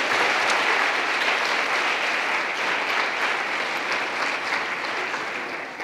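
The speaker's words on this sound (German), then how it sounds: "Einen großen Applaus bitte für deinen Namen" A lecture audience breaks into dense, steady applause for a volunteer called to the front, clapping loud and continuous before tapering slightly at the end.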